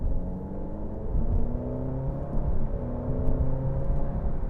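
An Alfa Romeo Giulia TI Q4 accelerates in natural mode, its engine giving a steady, full drone that rises in pitch through quick gear shifts, close and continuous, with no talking.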